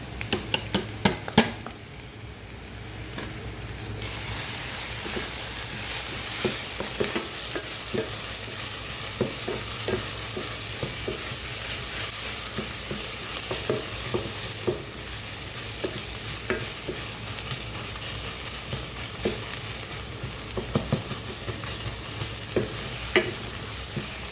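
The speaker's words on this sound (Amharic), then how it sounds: "እዚህ ጋር ደግሞ ሽንኩርት ትንሽ ጠበስ ብሏል።" Onion, garlic and ginger frying in a pan make a continuous loud sizzle, with repeated scraping and tapping of a stirring utensil throughout.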